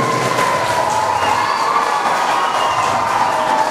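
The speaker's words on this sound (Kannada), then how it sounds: "ಜೋರಾಗಿ ಚಪ್ಪಾಳೆ ತಟ್ಟಬೇಕು." An audience at an inauguration ceremony breaks into dense, loud applause mixed with cheering, sustained for a few seconds as a crowd sound with voices rising through it.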